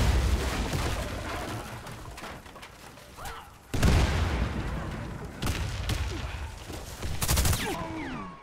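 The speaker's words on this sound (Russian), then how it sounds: "Кидаю гранату!" Continuous gunfire and explosive blasts in a Warface multiplayer match with a thrown grenade, dense bursts of shooting with sudden loud booms, close and chaotic.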